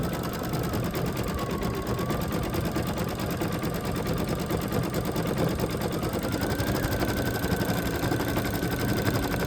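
An embroidery sewing machine stitches a flower design onto a towel, its rapid needle chatter a steady, close, even drone with a faint tonal whine running throughout.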